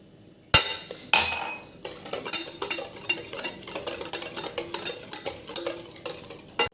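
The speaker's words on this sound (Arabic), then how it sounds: "نخلط هاد المكونات مع بعضياتهم كالطره بالعادي" Whisk or spoon stirring individual cake batter with yogurt and oil in a bowl: after a few knocks, a steady, rhythmic run of clinks and scrapes against the bowl, close and clear, with no talking.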